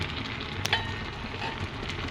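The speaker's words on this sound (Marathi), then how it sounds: "सो त्यात मी ओतले चिंचेचं पाणी" Tamarind water hits a hot pan while cooking shevla bhaji, a close, continuous sizzle and bubbling with one brief clatter early on and no speech.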